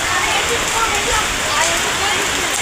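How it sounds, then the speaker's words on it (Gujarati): Steady, dense patter of light rain falling, a soft continuous hiss with fine drops throughout and no voices. "આજે ધીમો ધીમો વરસાદ શરૂ થઈ ગયો છે"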